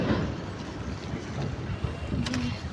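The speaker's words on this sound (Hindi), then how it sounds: "ठंडी ठंडी हवा चल रही है" Cool wind gusts steadily across the microphone outdoors, a dense roaring rush that stays loud throughout with no talk over it.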